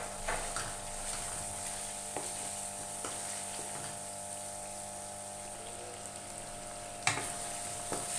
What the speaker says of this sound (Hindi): इसे मसाले को अच्छी तरह भूनना है।